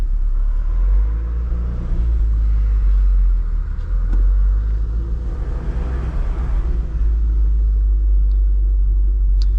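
A 1993 Toyota MR2's engine hums and rumbles steadily from inside the cabin while driving on a road, with a deep constant drone and mild shifts in pitch.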